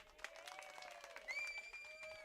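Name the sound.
audience applause at an acoustic concert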